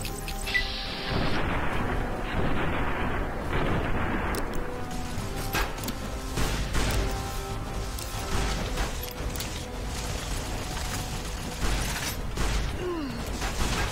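Gunfire and mechanical clatter in the video game Fallout New Vegas: a dense burst of loud booming shots at the start, then intermittent sharp reports and clanks over a steady game background, with no talk.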